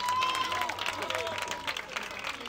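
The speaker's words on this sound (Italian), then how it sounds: "lo facciamo un grandissimo applauso Marco De Falco" Crowd applause with scattered cheering for a Muay Thai fighter at a fight event, moderately loud, dense and continuous.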